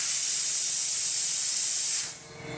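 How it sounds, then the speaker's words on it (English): A dry ice cleaning gun sprays straight down at the ground during undercarriage work on an E36 M3, giving a loud, steady, close hiss that cuts off abruptly near the end, leaving a faint residual hum. "spray directly down to the ground"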